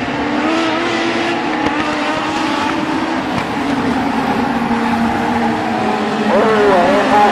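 Race car engines roar steadily on the North Star Speedway track in North Pole, Alaska, a loud continuous drone of several cars with rising revs, under an announcer's commentary.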